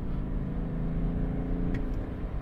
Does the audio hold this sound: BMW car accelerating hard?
yes